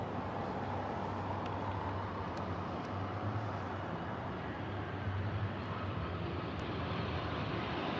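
A Finnair Airbus A319 passes at Heathrow with a broad, steady jet roar that stays fairly even throughout, a distant airliner rumble without speech.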